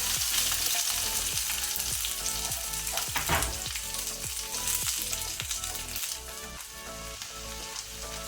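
Sliced onion sizzles steadily in about two tablespoons of hot cooking oil for a chicken dry, with curry leaves added, a loud continuous crackle broken by rhythmic stirring scrapes throughout.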